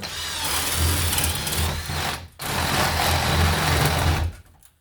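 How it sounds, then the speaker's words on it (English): A power drill runs loudly and steadily into a drop ceiling, briefly stopping once before grinding on again and winding down at the end. "so we'll drill our hole right into here"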